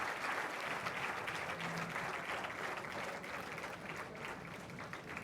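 Sustained applause from a large audience greeting the chief guest, India's defence minister, at a National Cadet Corps event, a dense, even clapping that continues throughout with a faint voice underneath.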